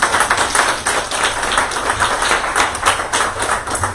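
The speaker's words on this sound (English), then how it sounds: "We need to give all of them a round of applause for all the work that" A studio audience claps steadily and loudly throughout, a dense continuous patter of many hands with no voices on top.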